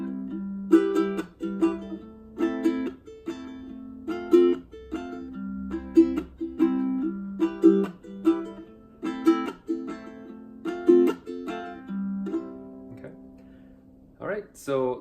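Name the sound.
ukulele strumming pattern emphasizing the and of every beat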